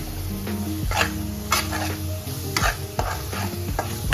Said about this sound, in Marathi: पाच मिनिटासाठी हा मसाला असा शिजू द्यायचा